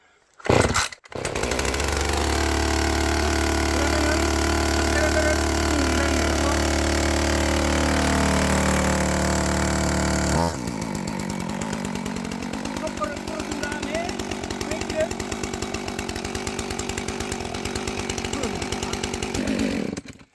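A chainsaw engine is pull-started and then runs loudly, revving steadily at first before the pitch shifts and it settles into a rougher, pulsing idle, close to the listener, with talk faintly present.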